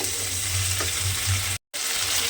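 Ginger paste sautéing in a pan for a cauliflower dish, with a steady close sizzle and faint stirring scrapes that cut off abruptly for a moment before the frying resumes.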